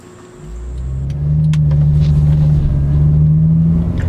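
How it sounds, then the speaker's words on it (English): A Mercedes-Benz C250 fitted with an aftermarket air intake drives on the road, its engine rumble swelling as it accelerates and then holding a steady, loud drone. "Now it's time for a test drive."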